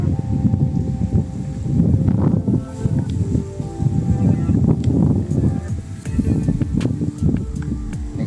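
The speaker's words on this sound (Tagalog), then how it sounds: "Kusog lagi kayong hangin." Strong wind buffets and roars continuously in low, rumbling gusts, with no voices.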